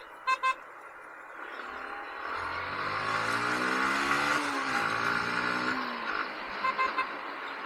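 Horns honk in traffic on a road in Arakkonam: short double toots open and close the clip, with a vehicle passing loudly in between, its engine pitch sliding as it goes by.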